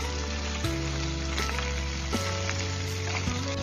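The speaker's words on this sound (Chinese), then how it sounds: "然后再把鸡腿肉给它夹放在锅里面去煎" A chicken thigh fries skin side down over medium-low heat in a pan brushed with a few drops of oil. The soft, even sizzle runs throughout beneath prominent background music, with no voices.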